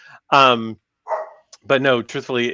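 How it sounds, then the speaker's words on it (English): Dog barking near the microphone in short loud bursts, a few sharp yips mixed with someone talking over them. "Sorry about my dog. He's very upset right now."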